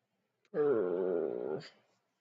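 A very large 200-pound dog lets out a single low, sustained growl lasting about a second, close and fairly loud, ending with a brief huff.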